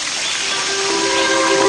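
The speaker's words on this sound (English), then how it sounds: "the California Lottery presents the peaceful sounds of a Hawaiian waterfall" A Hawaiian waterfall roars as a steady, dense rush of falling water, close and continuous, growing slightly louder.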